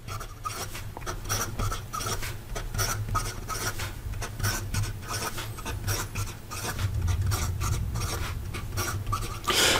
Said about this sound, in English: And then some fast writing.